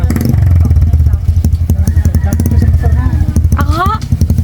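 A motorcycle engine runs close by with a rough, pulsing low rumble throughout, heard under people talking nearby outdoors.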